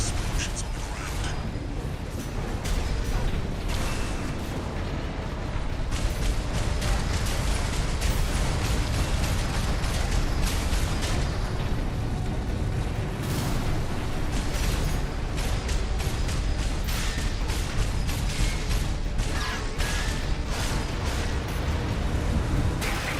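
Armored Core VI gameplay with a continuous, loud roar of ground explosions and booming blasts, dense and unbroken, layered with mechanical rumble throughout.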